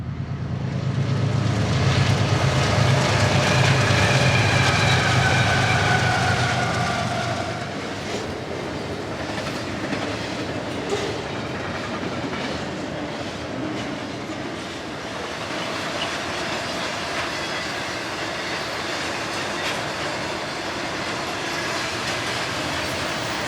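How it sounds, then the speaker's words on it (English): BNSF freight trains roll across the Arizona flatlands east of the canyon toward Winslow. A loud, steady rumble comes with rail clatter, heavy at first and then easing into a sustained, even roar of passing cars. "East of the canyon, trains roll across the flatlands the 24 miles to Winslow."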